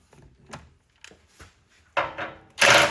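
Metal ratcheting and clanking as bolts are backed out of the factory step mount on a 1981-1991 Chevrolet Suburban, a few light taps early on and then two louder, close bursts of rattling tool work near the end.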